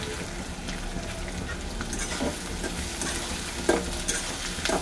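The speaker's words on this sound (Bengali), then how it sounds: "এবার এতে দেবো আমি কটা শুকনো লঙ্কা" Whole dried red chillies hiss and sizzle as they fry in a pan with chopped onion. A steady frying noise runs throughout, broken by occasional scraping clinks as the mixture is stirred.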